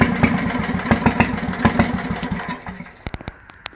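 An old Bolens tractor engine, left sitting for over 25 years, sputters as it tries to start: rapid, uneven popping bursts that run for a couple of seconds, then fade into a few scattered knocks and clatters.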